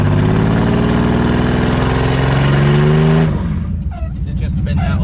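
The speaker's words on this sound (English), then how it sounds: "Look in the mirror, see if it'll do a burnout" A $300 Toyota 4Runner engine revving hard during a burnout attempt, a loud sustained roar that rises in pitch and then drops back, with voices audible underneath.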